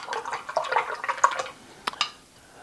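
A paintbrush swishes and taps in a water jar loaded with watercolor pigment, giving soft irregular sloshes and drips close by, ending with two brief clicks.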